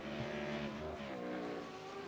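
A naturally aspirated V10 in a Lamborghini Huracan race car screams at high revs in a sim racing game, a loud sustained rasping tone that shifts pitch slightly as it runs steadily throughout.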